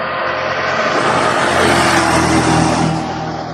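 A motorcycle passes along a roadside in Northern Samar, its engine note swelling loud and close as it nears, then easing away, with no talk over it.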